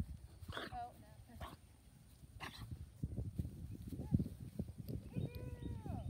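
A dog barks and whimpers near horses outdoors, short yelps and barks mixed with shuffling and hoof-like thuds, while people talk in between.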